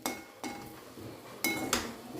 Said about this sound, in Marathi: त्या 1 चमचा तुपावर मी हा नारळाचा चव छान कोरडा होईपर्यंत परतून घेणार आहे